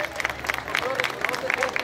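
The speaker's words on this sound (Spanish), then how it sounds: "¡Venga el aplauso, señores, para la reina infantil de los Juegos Florales!" Applause for the children's queen of the Juegos Florales at a carnival inauguration in San Miguel: a moderate, steady patter of crowd clapping with some rhythmic bursts, amid background crowd noise and a voice.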